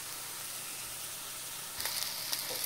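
Two medium sliced onions with a little kasuri methi sautéing in a pan give a steady, close frying sizzle, with a couple of brief stirring scrapes near the end.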